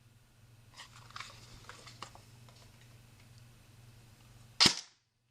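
A single sharp airsoft shot from a 2013 edition KWA SR7 rifle fired through a chronograph, a lone crisp crack rising abruptly out of a quiet room hum after a few faint ticks and handling clicks.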